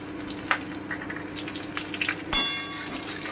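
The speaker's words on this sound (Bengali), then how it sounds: "হালকা করে একটু ভেজে নিচ্ছি" Crushed garlic frying lightly in a pan for an egg-fritter curry, a steady soft sizzle with a few faint clinks and one sharper metallic knock near the end.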